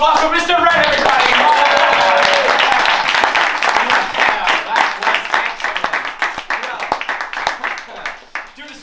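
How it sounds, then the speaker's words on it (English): Studio audience on a live show claps and cheers loudly at first, then the applause thins into scattered individual claps that fade away. "Let's give a round of applause for Mr. Red, everybody."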